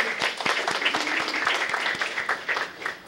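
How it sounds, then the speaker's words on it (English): An audience at a medical college white coat ceremony applauds with steady, dense clapping that holds at an even level for a few seconds with no voices over it. "We can applaud for that."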